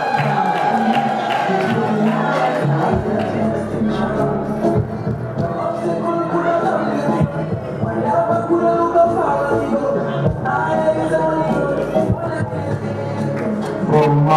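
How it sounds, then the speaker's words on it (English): A graduation-ceremony audience at the Zimbabwe Academy of Dental Nursing cheers and claps for a graduate, a loud sustained mix of clapping, whoops and raised voices lasting throughout. "Let's clap hands for Wenjipo."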